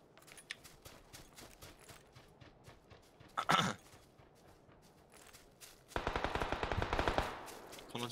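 Bursts of video game gunfire, one short volley mid-clip and a longer rapid automatic burst near the end, fairly distant and not very loud, with little talk over it.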